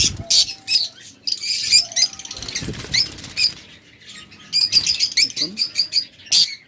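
Budgerigar lovebirds kept as pet birds chirp in rapid, bright bursts, with sharp wing flutters breaking in between; the busy chatter rises and falls close by across several short stretches.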